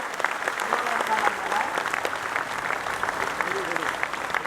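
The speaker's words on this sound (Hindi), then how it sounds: "जोरदार तालियां बजाइए अच्छे काम के लिए।" Audience at a religious discourse and book release applauding, a steady, fairly loud patter of many hands clapping with some voices murmuring underneath.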